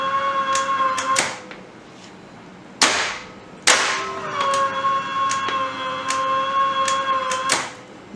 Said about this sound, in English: At first, we trip the breaker manually.